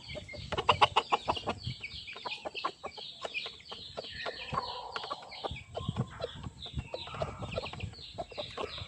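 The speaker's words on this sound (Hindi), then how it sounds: "मुर्गे एक दूसरे से खींच के खाते हैं, मादियाँ एक दूसरे को मारती हैं" Aseel chickens cluck and peck close by while feeding, with busy overlapping clucks and small calls in an uneven, continuous chatter and no talk.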